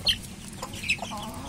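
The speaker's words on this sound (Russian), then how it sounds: "Смотрите, цыпленок вместе с курицей." A chick peeps in high, short calls while an Ameraucana hen clucks low and softly close by as they eat grass, a brief and quiet exchange.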